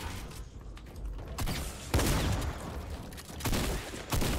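Gunfire in a video game: irregular bursts of rapid shots with sharp, loud cracks breaking out between quieter mechanical clicks and rattles, close and without speech.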